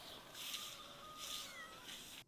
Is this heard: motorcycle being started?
no